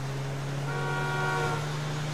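A car horn sounds in GTA 5 traffic, a steady held honk over a constant low engine hum.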